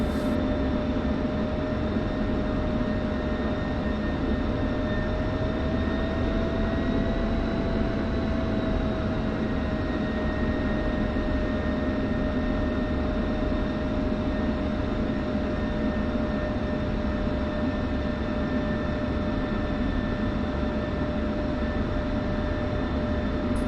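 Steady, loud jet engine whine from an F-16C taxiing toward the runway for takeoff in the DCS combat flight simulator, holding a constant drone with tonal lines that shift slightly in pitch.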